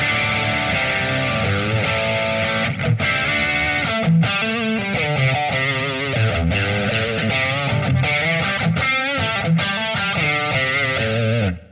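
Distorted electric guitar chords and riffs run through an MXR 117 style flanger modelled on a Line 6 Helix, the sweeping, warbly jet-like modulation continuous and loud with no talking.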